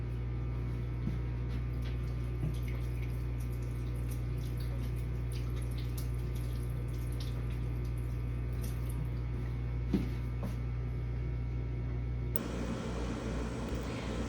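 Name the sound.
washing hands under running tap water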